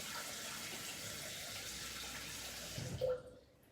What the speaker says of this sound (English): grab your Thermomix bowl and put some water in